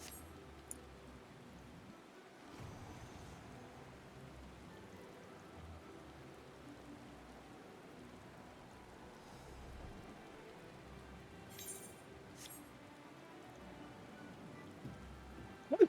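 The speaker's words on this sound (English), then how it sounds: "It rained so much rain." Soft, steady rainfall in a video game, Final Fantasy XIV, patters continuously at a low level, with a few faint sharp ticks and a brief louder burst near the end.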